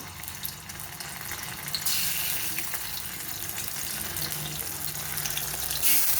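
Ginger paste hits lightly heated oil in a wok, setting off a steady wet hiss that swells partway through and holds, close and moderately loud, with no talking.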